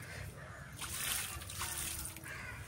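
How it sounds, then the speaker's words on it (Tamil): Water poured over a planted mango seed outdoors in a village, a soft, faint splashing and trickling in several short bursts, with crows cawing faintly in the background. "மாங்கொட்டையை வச்சு தண்ணி ஊற்றியாச்சு."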